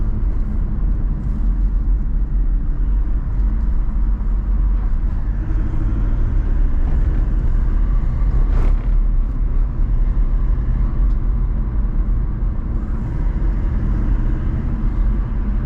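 A vehicle fitted with OME BP51 suspension drives along a smooth track, giving a continuous low road rumble and engine drone from inside the cabin, steady with no voices.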